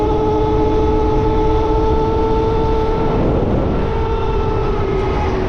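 A Bafang BBSHD mid-drive motor on an Aventon Sinch e-bike run at 75.6 volts, emitting a loud steady whine with tonal hum and road and wind noise, continuous throughout.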